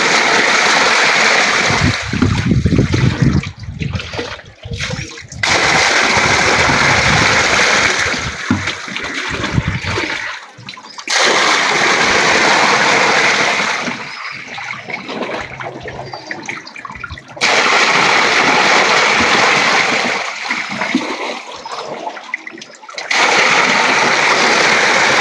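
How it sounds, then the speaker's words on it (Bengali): Water rushes out of a molly fish tank being emptied quickly, a loud, steady gushing and splashing that comes in long pours with brief breaks in between. No one speaks. "পাইপ দিয়ে পানি নামাইতে গেলে অনেক টাইম লাগে, যার কারণে এভাবেই নামাই, খুব দ্রুত হয়ে যায়।"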